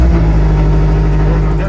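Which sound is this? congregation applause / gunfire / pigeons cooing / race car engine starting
race car engine starting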